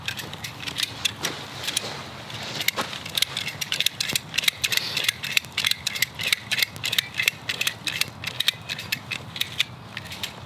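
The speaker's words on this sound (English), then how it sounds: "And you just ratchet it up." A ratchet strap is cranked tight on a forest paddock horse shelter during repairs, giving a steady run of close, sharp metallic clicks in quick bursts with pawl rattles and clunks in between.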